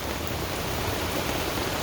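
Steady rain falls over a tent campsite, a dense, even hiss of drops that stays constant throughout without breaks, close and enveloping, with no voices present.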